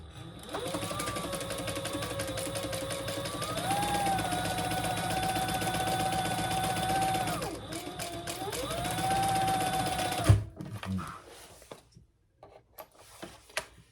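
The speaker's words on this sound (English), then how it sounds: "we're just going to baste those together" A sewing machine bastes fabric panels together for a crossbody clutch, running at a steady whir for about ten seconds with brief speed shifts, then stopping, followed by fabric handling noises.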